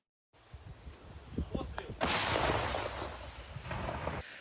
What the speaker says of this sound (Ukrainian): Від пострілів все навколо здригається, дим піднімається